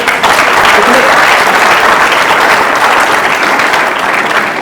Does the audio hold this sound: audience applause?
yes